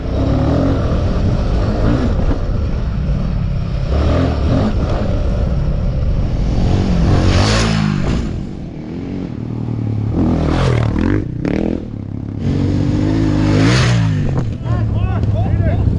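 A Royal Enfield Himalayan 450 and a CFMOTO 450 MT on Pirelli Scorpion Rally tyres ridden on a lap, heard as loud continuous engine drone with rising and falling revs, close up, with a voice talking over it.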